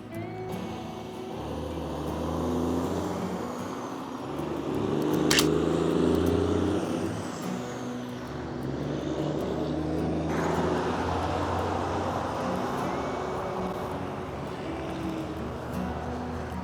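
Car traffic passes along a street where an old car is parked, a steady roadway rumble swelling as vehicles go by near and then easing, with no voices over it.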